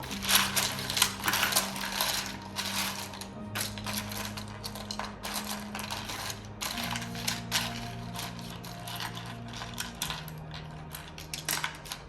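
Tarot cards being shuffled over and over, a rapid flurry of crisp riffling clicks and slaps close by, with a faint tone humming underneath.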